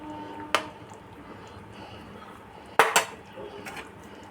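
A metal spoon clinks twice against a cooking pot of neem leaf milk shukto while ghee goes in, sharp close taps separated by quiet kitchen background.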